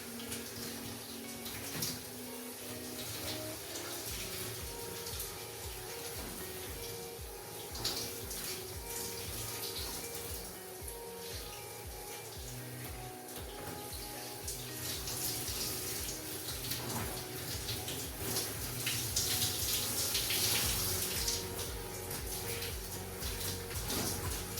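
Water runs continuously from a tap or shower as shampoo is rinsed out of hair, a steady hiss with shifting splashes that grows a little louder near the end.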